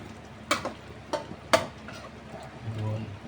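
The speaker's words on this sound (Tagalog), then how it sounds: "Ilagay na rin natin yung patatas at saka carrots para pumasok na po ang lasa dyan." Potatoes and carrots stirred into pork kaldereta frying in a pan, with a few sharp close clanks and scrapes of a utensil over a low sizzle, followed by a softer hum of frying.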